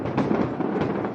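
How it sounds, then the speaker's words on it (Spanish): Fireworks going off at night during a street celebration, a dense crackling roar of overlapping bangs and pops, loud and continuous throughout. "Venís a hablar y te tiran a fuegos artificiales."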